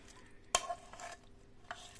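A spoon scrapes and knocks against a pot while stirring tamarind pulp into brinjal pickle, a sharp clink followed by quieter stirring scrapes and a second light tap.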